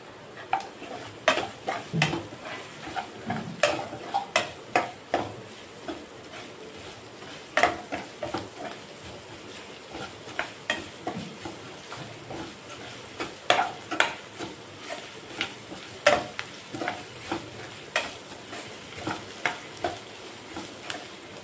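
Curry leaves and green chilies sizzle and fry in a pan for aloo rice, with steady crackling and repeated scraping stirs and clinks of a spoon against the pan throughout.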